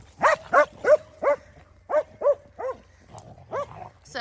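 A Jack Russell terrier barks repeatedly outdoors, sharp close barks coming in quick pairs and clusters with brief pauses between them, loud and clear against a quiet background.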